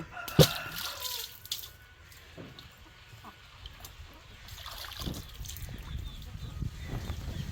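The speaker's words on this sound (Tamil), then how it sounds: "இது அப்படியே தண்ணியில் போட்டு கழுவி" Water splashes and trickles as mangoes are rinsed under a running tap, with scattered drips and a sharp knock near the start, fairly close.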